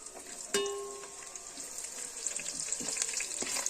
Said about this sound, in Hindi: प्याज को हमें गोल्डन ब्राउन होने तक फ्राई करना है।